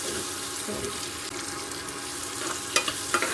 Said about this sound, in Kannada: ಈರುಳ್ಳಿ ಮತ್ತು ಜೀರಿಗೆ ಹಾಕ್ಕೊಂಡಿದ್ದೀವಿ.